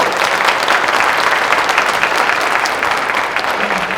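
A concert audience applauds an all-star youth orchestra, dense sustained clapping that stays loud and even from start to finish, with no break.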